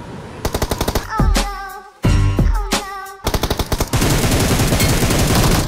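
Loud, close bursts of automatic gunfire in the video game BGMI, with rapid rattling volleys separated by short gaps and a sustained stretch of firing near the end.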